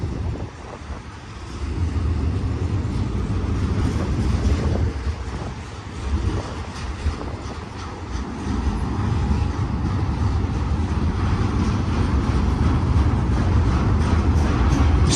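A heavy freight train with white trailers rumbles past nearby, a loud, deep, sustained roar with rhythmic clattering layered in, swelling and dipping slightly as cars go by.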